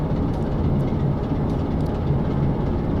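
A Class 47 diesel locomotive in Train Simulator 2017 rumbles steadily along the rails, a continuous low, heavy drone with faint rhythmic clatter and no breaks.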